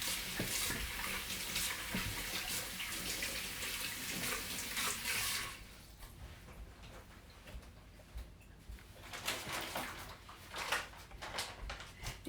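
Running water from a kitchen tap splashes steadily into a sink while sticky, floury hands are rinsed, loud and continuous at first, then thinning into intermittent trickles and drips.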